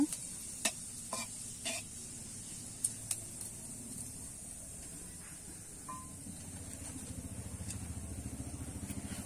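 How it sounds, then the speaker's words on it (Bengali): Whole cumin and a dried chili sizzle softly in hot oil in a pan, with a steady low crackle broken by occasional clicks and scrapes from stirring. "এখানে দেখো গোটা জিরে আর একটা শুকনো লঙ্কা আমি ফোড়নে দিয়ে দেবো। ফোড়নটা আমি একটু নেড়ে চেড়ে নেব।"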